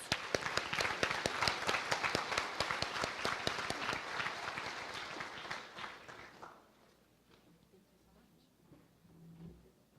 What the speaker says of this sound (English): All right, let's give all teams a round of applause.